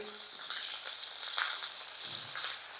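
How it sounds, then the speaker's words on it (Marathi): Green chillies fry in hot oil with bloomed cumin, giving a steady, fairly quiet sizzle with a few faint stirring scrapes and no voices. "या तेलात आपल्याला ही मिरची मस्त अशी परतवून घ्यायची आहे"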